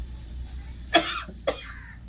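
Two short, sharp coughs about half a second apart, close by, against quiet background hum.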